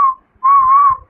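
A cartoon character whistles two clear, loud, high notes, a short one and then a longer sustained one, separated by a brief pause.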